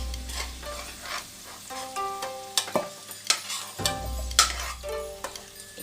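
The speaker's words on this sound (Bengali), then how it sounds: "আমি এবার আলুগুলো তুলে নিচ্ছি" Potatoes frying in hot oil and being lifted out, a steady close sizzle broken by sharp clinks and scrapes of a utensil against the pan.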